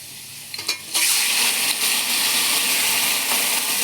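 Mustard seeds going into a pan of potatoes fried red for a thin hilsa fish curry, a few clicks and then a sudden loud, steady sizzle and crackle of hot oil that keeps going.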